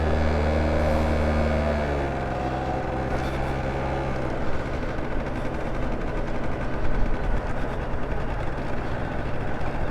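The engine of a Yamaha Riva Razz scooter drones steadily while it is ridden, a loud close hum with low rumble and rising rough wind-like texture throughout.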